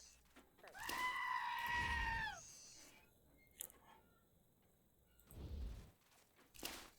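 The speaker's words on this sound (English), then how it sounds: "All of these goats." Goats bleat in the post-apocalyptic role-playing game Wasteland 2. One loud, drawn-out, wavering bleat comes first, followed by fainter, shorter bleats and scattered noises against a quiet background.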